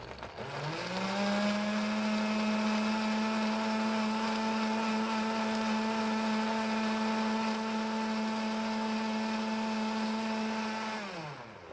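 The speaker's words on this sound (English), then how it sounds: "So really be careful when you're adding hot liquids to a blender." A kitchen blender purées hot cream and chocolate for mousse, spinning up with a rising whine, then holding a loud, steady motor drone for about ten seconds before winding down.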